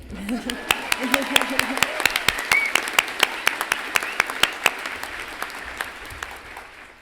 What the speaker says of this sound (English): please also join me in a round of applause for the CSU Brass Ensemble